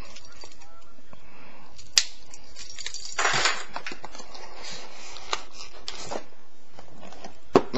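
Swiss Army knife cutting into the plastic packaging of a Logitech G602 wireless gaming mouse, with scattered crackles, snaps and a longer crunching rip near the middle, close and fairly quiet.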